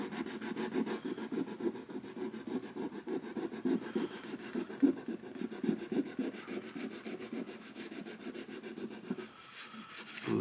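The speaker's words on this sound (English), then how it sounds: "I get to do some very fine wet dry on the dowels that I use to fill the hole" Fine wet-dry sandpaper rubbing wooden dowels used to plug old bridge pin holes on a Gibson B-25 acoustic guitar bridge, a steady close scratchy back-and-forth rasping that continues for about nine seconds and then eases off.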